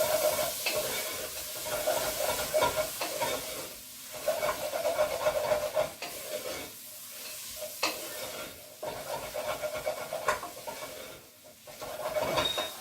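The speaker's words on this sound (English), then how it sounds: "Scrape it all in. They're always the tasty bits, the little bits that are left on the plate. So stir that up." A chicken and chickpea tagine being stirred in a pot, with a spoon scraping the bottom over a soft sizzle, the strokes coming in uneven bursts with short pauses, close and without talk.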